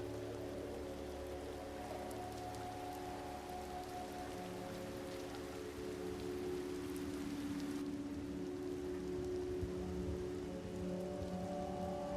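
Rain falls steadily on the ground in a neon-lit city, a soft, continuous hiss at low volume under a faint, humming ambient tone, with no voices.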